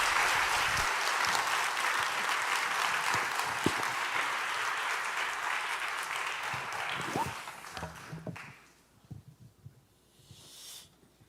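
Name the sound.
church congregation applauding in welcome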